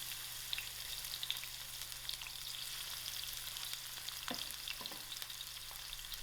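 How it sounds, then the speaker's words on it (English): Onions fry in hot oil in a pot, giving a steady broad sizzle with faint crackles and a couple of brief stirring scrapes near the end, with no voices. "To my heated oil I'm going to add in my onions."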